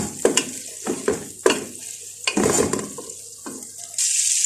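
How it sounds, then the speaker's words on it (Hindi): Capsicum and chillies frying in butter in a pan, with a steady sizzle under repeated rhythmic stirring scrapes, close up and fairly loud, without any talking. "और ये जब बटर में ये फ्राई होंगी ना तो इससे इसके अंदर बहुत ज़बरदस्त ख़ास किस्म का फ्लेवर और खुशबू उसके अंदर पैदा होती है।"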